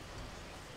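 Steady rain falls in the video game Grand Theft Auto 5, a constant soft hiss of drops with low rumbling underneath, even and unbroken, with no talking.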